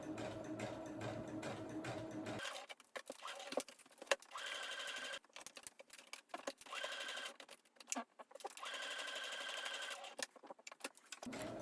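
A sewing machine stitches a dress sleeve in several short runs of rapid mechanical whirring and ticking, separated by brief pauses, close and fairly quiet.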